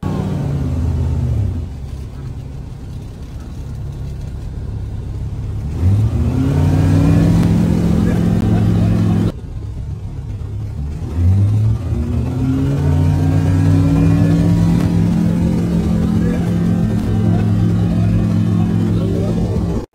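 Light aircraft engine at full throttle just before a spin, a loud continuous drone that rises in pitch twice, with a brief cut between the two runs.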